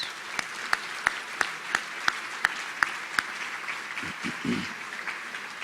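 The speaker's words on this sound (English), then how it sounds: "Let's give our Court of Appeals justices a round of applause." Applause from diners at an annual historical society dinner honoring appellate justices, moderate clapping with a few sharp, evenly spaced claps standing out near the microphone, then a brief murmur of voices.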